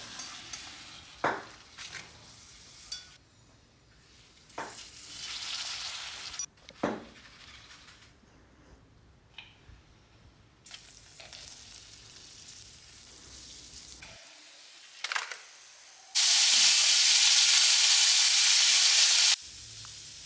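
Papadam fried in hot oil, with bursts of crackling sizzle that come and go alongside light clinks of a utensil, ending in a loud, sustained hiss for several seconds.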